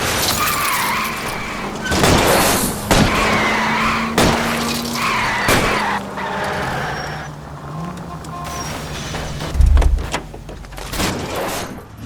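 Car tyres skid and screech through a chase in the video game L.A. Noire, loud and sustained with engine roar, impacts and brief crashes, and voices call out over the action.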